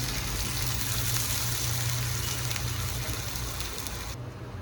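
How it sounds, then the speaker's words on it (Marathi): Water poured into a pan of potato pieces frying in ghee with cumin, a continuous rushing gush with a low hum beneath, steady and close, tapering near the end. "यामध्ये पाणी घालूया आपण"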